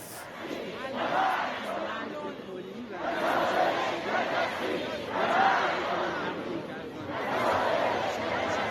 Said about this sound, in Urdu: تہران میں لوگوں نے شدید احتجاج کرتے ہوئے امریکہ اور اسرائیل کے خلاف نعرے بازی کی ہے